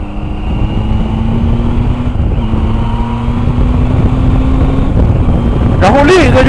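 A Zontes 703F motorcycle cruises at speed on an expressway, its steady engine drone held under loud wind rush, with a brief shift in tone near the end.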